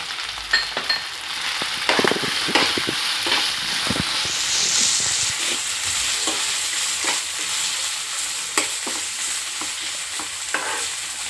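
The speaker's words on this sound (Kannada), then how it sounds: "ಈಗ ಲೈಟಾಗಿ ತರಕಾರಿ ಫ್ರೈ ಆಗಿದೆಯಲ್ವ" Capsicum, carrot and cabbage lightly frying for a spicy pasta, a continuous close sizzle with frequent scraping stirs and clinks of a spatula against the pan.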